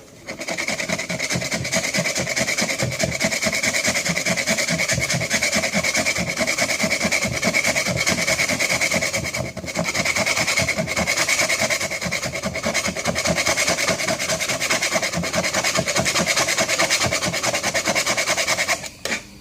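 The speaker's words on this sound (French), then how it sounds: "Je termine à gratter dans ce sens-ci." A Novoryt renovation kit tool scrapes a surface that comes away like wood shavings, a loud, close, continuous rhythmic rasping of rapid strokes with one brief pause partway through.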